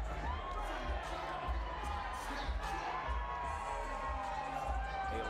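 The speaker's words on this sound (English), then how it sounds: "A lively crowd here in the Motor City." Arena crowd in Detroit at a women's boxing title fight, a steady roar of cheering and shouting that fills the whole clip, with voices rising and falling but no pause.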